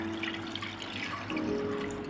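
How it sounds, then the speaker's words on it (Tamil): Water is poured from a small copper pot into a pressure cooker for mutton bone soup, a soft, steady splashing trickle heard close and alone. "நான் ஒரு செம்பு தண்ணி நிறையா ஊற்றுறேன்"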